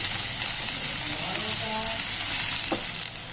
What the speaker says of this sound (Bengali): তো পেঁয়াজটিকে আমি এখানে হালকা লাল লাল করে ভেজে নেব